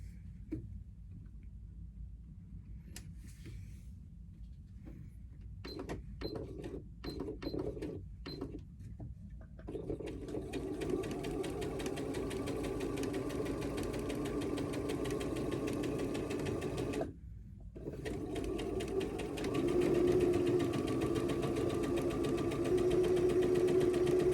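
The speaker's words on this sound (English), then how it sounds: "you're going to stitch it straight down to sew the corner to the rectangle" Sewing machine stitching a fabric corner onto a quilt block rectangle, a sustained motor whir with a brief pause, preceded by scattered clicks and handling noises.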